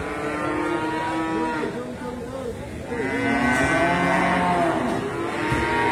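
A young pedet calf moos in a cattle pen, letting out two drawn-out, wavering calls at close range over low background noise.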